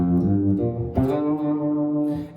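Overdriven electric guitar with tremolo holding gritty, harmonically rich notes with a wavering, pulsing texture, changing pitch about a second in.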